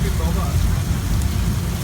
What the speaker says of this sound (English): Guys, we can cut the rain. This is way too much water.